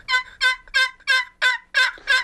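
A hickory two-piece wooden box call chalked on one side, worked to imitate a wild turkey hen: seven evenly spaced, loud, raspy yelps in a steady rhythm, clear and close with no talking.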